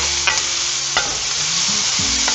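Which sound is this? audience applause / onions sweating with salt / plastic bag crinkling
onions sweating with salt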